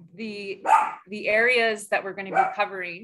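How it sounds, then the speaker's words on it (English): A dog barks and yips several times in quick succession, loud and close, overlapping a person speaking during an online teacher training session. "that is my dog"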